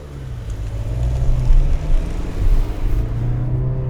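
A 2015 Honda Accord Sport pulls away after being put into gear, its engine and road noise rising into a steady low rumble heard from inside the cabin.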